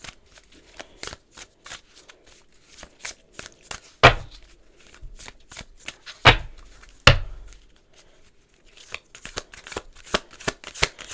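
Tarot cards shuffled by hand, a quick run of crisp riffling flicks and soft slaps, with a few louder bridging snaps standing out, close and alone without talk.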